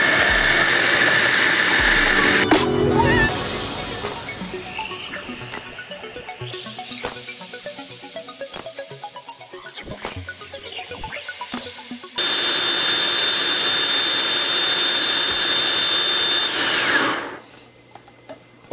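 A blender mixes a fruit juice cocktail of orange, mandarin and lemon with loud whirring bursts, choppy pulsing in the middle and a steady high spin before cutting off.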